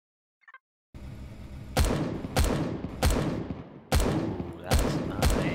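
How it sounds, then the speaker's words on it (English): Incendiary autocannon turret firing in the space survival game Empyrion, a slow series of about seven loud, booming shots at regular intervals over a continuous rumbling background, with no talking. "turret on. Here we go. Incendiary autocannon?"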